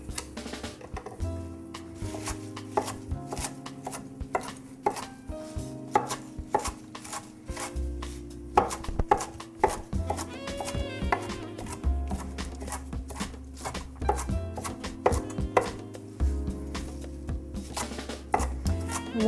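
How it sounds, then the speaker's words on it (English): A knife chops spinach on a cutting board in rapid, steady taps that thud against the board, close and continuous for the whole stretch with no talking. "we're just going to give it a light chop and put it into our serving bowl"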